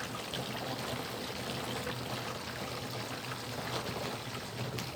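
Water pouring steadily into a 5-litre mix of raw milk, a continuous soft rushing stream with no pauses, moderately quiet and close.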